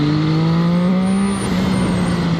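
A Zhang Xue 820RR motorcycle is ridden with a loud, steady engine drone that holds pitch and then sags slightly, alongside continuous wind rush close to the rider.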